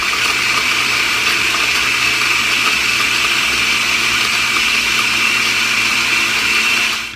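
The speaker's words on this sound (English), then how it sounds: "I'm going to put this on my blender and then process it up" A blender runs at full power, processing Brazil nuts and dates into milk, a loud, steady, unbroken whirring roar that holds for several seconds before cutting off.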